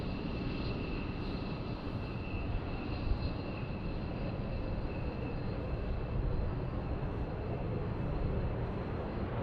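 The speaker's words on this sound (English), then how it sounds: "I hear our American Airlines going to Delta, getting ready to take off. Nope, F-16s." F-16 fighter jets getting ready to take off at Tucson airport: a steady, loud broadband jet roar that holds unbroken throughout, with a faint high whine riding on top.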